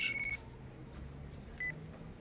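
Flip phone in the Yakuza 5 video game giving short electronic beeps, a longer tone at the start and a brief one later, fairly faint over a low background hum.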